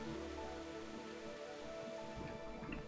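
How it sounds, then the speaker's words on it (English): Soft, steady rain falls in the medieval video game Kingdom Come: Deliverance, a faint even patter with low rumble beneath and no voices. "It's raining."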